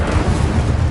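Hogwarts Legacy's Incendio fire spell erupting in a single loud, dense whoosh of flame, rumbling low and hissing across the top, steady for just under a second.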